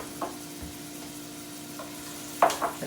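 Onion and a spice mixture fry in a small saute pan, giving a faint, steady sizzle with a low electric hum and occasional soft stirring clinks and taps.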